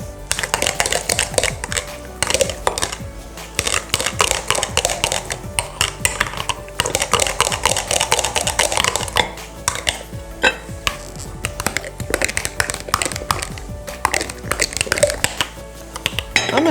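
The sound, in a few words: stirring chipotle chicken in a stainless steel pan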